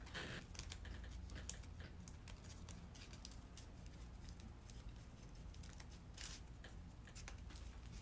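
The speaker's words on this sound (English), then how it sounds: "take my scissors and trim just a wee tiny bit" Scissors snip paper trimmed during an origami activity, a series of small close crisp cuts and rustles over a low steady background, with no talking.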